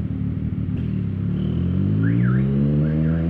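A loud motorcycle exhaust, a CFMoto 675 SR-R with an aftermarket pipe, rumbles steadily and close. Alongside it, a car alarm's rising and falling warble starts up and repeats twice.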